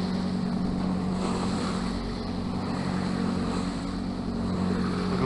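A cruising boat's engine drones steadily at sea on a long open-water crossing toward Coffin Bay, a loud, constant low hum mixed with wind and rushing water, with no pauses.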